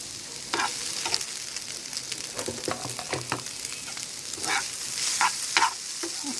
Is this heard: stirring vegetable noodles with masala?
yes